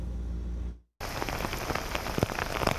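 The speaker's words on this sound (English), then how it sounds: "Fast-moving downpours coming through Rhode Island, the remnants of Florence." Heavy rain from the remnants of Hurricane Florence pours down in Rhode Island, a dense steady hiss of drops hitting the ground after a brief cut, close and loud with scattered sharper splats.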